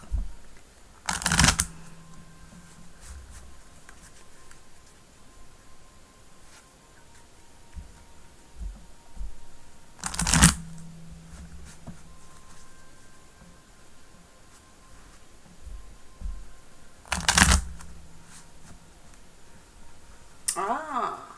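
Tarot cards are shuffled in three quick riffling bursts spaced several seconds apart, each a brief loud flutter over a quiet room.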